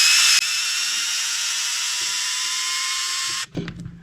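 Power drill running steadily and loudly to remove screws from the lower link of an Element ECTO, a continuous high whine that cuts off abruptly near the end, followed by brief clanks of handling.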